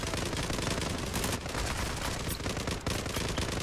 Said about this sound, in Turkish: Çok güzel bir çatışma var önümüzde.